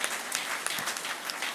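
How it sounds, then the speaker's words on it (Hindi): An audience claps at a valedictory session of a meditation event, a brief steady burst of applause that fills the room. "उन सभी बहनों को ताली बजाकर बहुत बहुत"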